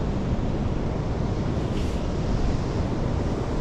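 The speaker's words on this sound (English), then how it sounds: "So that's the raging Pacific Ocean behind me." Pacific Ocean surf near the end of the Westport jetty at about low tide, a steady loud wash of breaking waves mixed with wind buffeting the microphone, continuous throughout with no talk.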